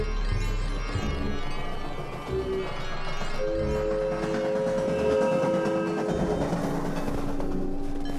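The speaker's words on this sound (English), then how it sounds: "All right, now I just need the train to come around." A train rolls past in the survival game Abiotic Factor, a sustained rumbling clatter with long tonal whistle-like notes sounding over it, loud and steady throughout with no talking.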